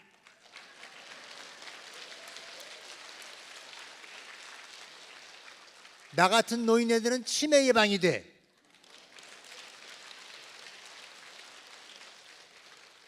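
Steady, dense applause from a lecture audience at an author's special talk fills the room, breaks off for a few seconds while someone speaks, then resumes at the same even level.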